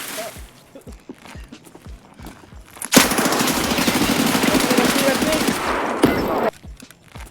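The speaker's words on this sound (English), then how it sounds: "We're taking shots." Automatic gunfire in the video game Escape from Tarkov, a sustained loud burst of rapid shots lasting several seconds after scattered softer sounds, ending abruptly, with players talking around it.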